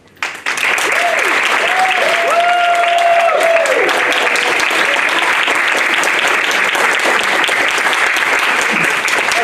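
Loud, sustained applause from a crowd at a senior center accreditation and birthday celebration, welcoming the executive director; it swells quickly and holds steady, with a few voices briefly audible at the start.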